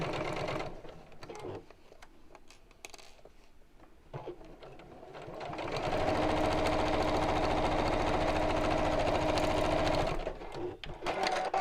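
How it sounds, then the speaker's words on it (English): A sewing machine stitches along the sides of a fabric envelope with ribbons held clear, a near, steady mechanical whir running for several seconds between quieter handling and clicks before and after. "and then we'll sew along each side with the ribbons out of the way"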